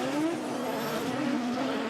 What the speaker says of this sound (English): goes for the initiation, big clutch kick, gets that car to angle, stands on the accelerator